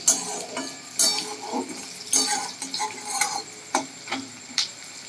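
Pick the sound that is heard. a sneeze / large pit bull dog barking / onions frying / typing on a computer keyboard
onions frying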